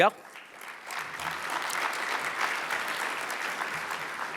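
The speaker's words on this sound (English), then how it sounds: "I'm not going to stop anyone from clapping for that" Audience at a 2024 Tempe mayor's State of the City address claps in a steady, moderately distant round of applause that sustains evenly for several seconds after a brief opening sound.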